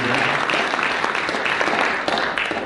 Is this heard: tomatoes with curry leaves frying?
no